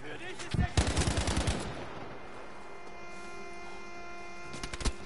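A heavy mounted gun fires a fast burst in Battlefield 5, rapid rhythmic shots for about a second, followed by a low hum and a brief second burst, distant and moderately quiet.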